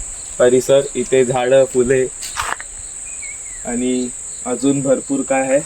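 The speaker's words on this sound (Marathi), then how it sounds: "कंटिन्यू किडे चिमणे पक्षीचा आवाज येत असतो इथे." A continuous high insect trill, like crickets, rings steadily outdoors in front of a Konkan village house while someone talks over it in pauses.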